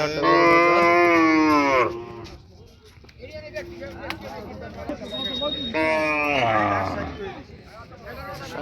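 Two long, loud cow moos close by at a cattle market, separated by a few seconds of background murmur and crowd noise.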